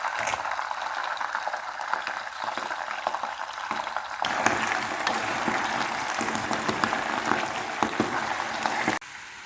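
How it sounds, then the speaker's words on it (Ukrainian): Mushrooms and garlic sizzle in a hot pan with a steady, crackling hiss that grows noticeably louder partway through, then cuts off abruptly near the end. "Смажаться наші грибочки, часничок, як і обіцяла."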